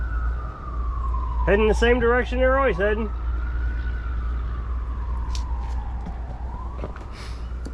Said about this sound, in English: No, that's a fire truck.